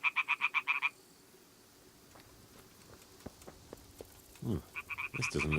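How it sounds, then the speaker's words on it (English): Frogs croaking loudly in the Kingdom Come: Deliverance video game, a rapid burst of close pulsing croaks, a quieter stretch with scattered clicks and steps, then the croaking chorus returns strongly. "Those frogs are like loud."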